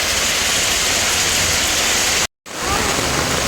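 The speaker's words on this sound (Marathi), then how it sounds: "आता जोर पुन्हा पावसाने धरला आहे" Heavy rain pours onto a street in Galanagar, Nalasopara, making a loud, steady, dense hiss that fills the whole clip and breaks off for a brief moment of near silence before returning.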